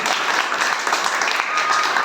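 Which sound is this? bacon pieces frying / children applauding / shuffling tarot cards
children applauding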